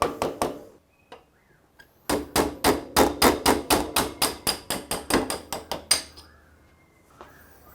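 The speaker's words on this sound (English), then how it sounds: "we just need to tap the axle out." Close, sharp metallic hammer taps drive out the rear axle of a Moto Guzzi Le Mans 1000, a few hits at first, then a steady run of about seventeen evenly spaced blows before the rhythm stops.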